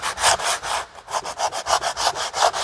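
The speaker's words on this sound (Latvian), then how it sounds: "Tagad tas viss ir notīrīts. Es te bišķīt uzslīpēšu." Close, loud hand sanding of an old wooden window frame during historic box-window restoration: about a dozen rhythmic back-and-forth rasping strokes with a brief pause near the start, heard on their own.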